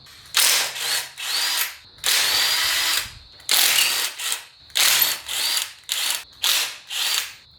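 A handheld power tool, likely an impact or ratchet-style driver, removes 12mm bolts from an alternator bracket on a Toyota MR2 engine, giving loud close bursts of whirring and rattling separated by short pauses, about nine runs in total.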